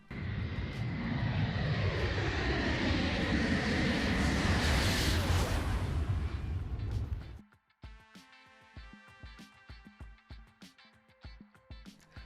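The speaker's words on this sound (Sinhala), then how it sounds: "එක්සත් රාජධානියේදී යුරෝ ෆයිටර් ටයිෆූන් යානයක් හදිසි ගොඩබෑමක් සිදු කරපු" A Eurofighter Typhoon jet makes an emergency landing in the UK, a loud roaring engine rush that swells and sweeps past for about seven seconds, then cuts off and leaves quieter clicking and background noise.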